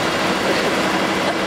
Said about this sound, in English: Lots of noise behind you with the train.